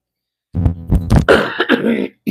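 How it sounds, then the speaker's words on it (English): A man clears his throat, a short series of rough, voiced throat-clearing bursts close to the mic, with some cough-like catches. "clear my throat"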